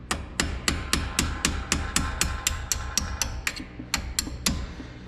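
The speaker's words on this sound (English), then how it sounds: "see if we can drive these pins out. And I know I'm using a claw hammer." A claw hammer drives out brake pins on a Cadillac CTS-V, repeated sharp metal-on-metal strikes in a fast, steady rhythm, about a dozen ringing blows close by, with a brief pause before the last few.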